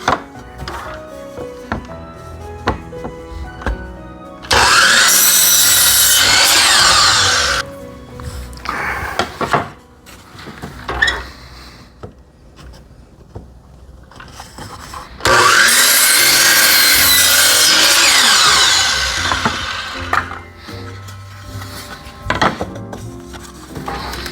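Saw cutting wood in a woodworking shop, two long loud rasping cuts of several seconds each separated by quieter handling clunks and knocks.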